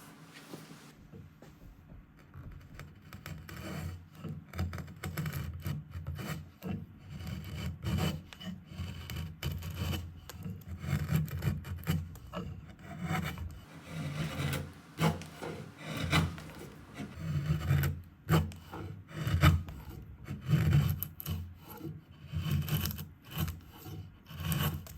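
An antique timber-framing hand tool cuts through green red oak, making rough rasping scrapes in irregular strokes, close and moderately loud, with no voices.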